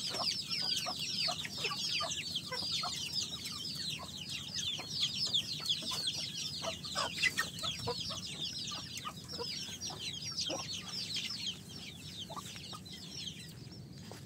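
Native country chickens on a farm keep up continuous, overlapping clucking from several birds, fairly close and moderately loud, with no talking.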